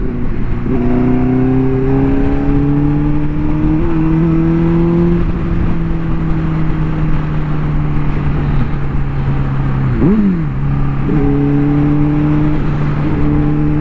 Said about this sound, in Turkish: Motorun sesi tuhaf mı geliyor?